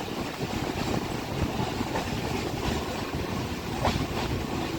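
A Kolkata Circular Rail train pulls into Tollygunge station, a steady broadband rumble of wheels and carriages with faint clatter, continuous and fairly close throughout.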